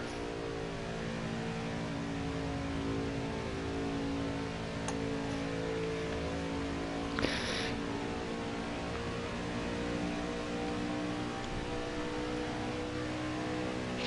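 Race truck engine droning at steady high revs through a qualifying lap in NASCAR Heat 5, a continuous harmonic whine holding for the whole stretch with a brief click partway through and no talking.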